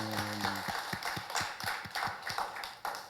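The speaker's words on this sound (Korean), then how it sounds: "우리 살아계신 하나님께 영광의 박수 올려드리겠습니다." A church congregation claps in praise, a steady run of evenly spaced claps after a short low musical tone, moderately loud and without talk.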